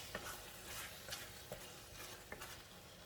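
Sambal with prawns and stink beans being stirred in a pan, soft scraping strokes over a low steady sizzle, faint and close, with no voices.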